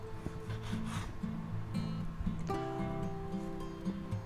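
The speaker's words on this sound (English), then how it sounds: "We'll cut some of this fat off." Kitchen knife trimming fat off a raw steak on a cutting board, a series of close rasping strokes with faint rubbing and scraping, steady and quiet with no talk.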